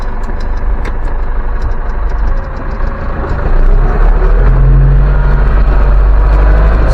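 A Case IH 7610 tractor engine runs steadily with a deep low rumble, growing louder and heavier midway as it drives forward, close and continuous with no talking.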